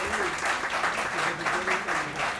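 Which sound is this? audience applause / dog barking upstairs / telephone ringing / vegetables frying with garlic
audience applause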